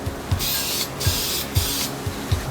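A fan-tip spray can spraying paint onto a guitar body: short, loud hissing bursts repeated about every half second, each with a faint click at the start, close up and alone.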